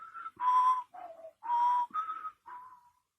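Someone whistles a short tune of six clear notes, some held and some rising or falling, close and alone.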